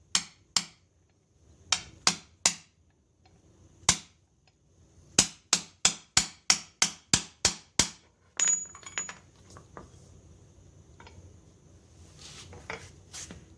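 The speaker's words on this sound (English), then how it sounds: "My hammer." A hammer strikes a socket being driven onto a Chrysler inner tie rod bushing, giving sharp metallic clanks, some singly and then a quick run of about ten, followed by softer scraping and clinking.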